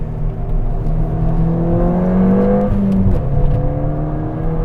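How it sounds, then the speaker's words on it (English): A Ford Fiesta ST fitted with a Milltek exhaust revs close by, its engine and intake note climbing in pitch and then dropping as it shifts, steady and loud with no talking. "That added intake noise as well, of it sucking in the air, adds to the drama."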